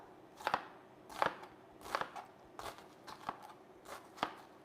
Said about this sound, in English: this is fine dice, so I'm going to go quite close here so I don't get big chunks of onion